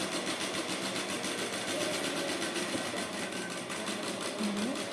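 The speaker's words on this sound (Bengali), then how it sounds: "এবার বাকি দেখো এভাবে আবার কিন্তু করে নিচ্ছি সোজা করে সেলাই" A sewing machine runs steadily, straight-stitching a seam on trousers, its fast, even whir held at a moderate level throughout.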